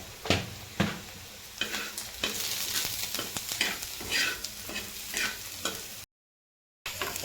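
Chopped onion frying with salt in a pan for a spicy village-style kurvadi vegetable dish, giving a steady close sizzle broken by repeated stirring scrapes and clatters, then a short silent gap before the sizzle resumes.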